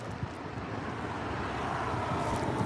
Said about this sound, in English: We have United Express. An Embraer ERJ 175 LR going to Santa Barbara,